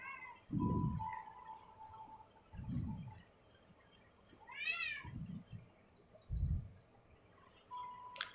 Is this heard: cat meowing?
yes